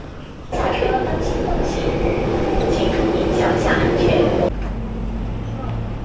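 Shanghai Metro train rumbling loudly and steadily from inside a carriage, a continuous dense roar that drops in level near the end, with faint voices underneath.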